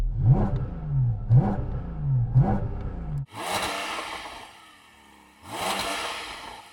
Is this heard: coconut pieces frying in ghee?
no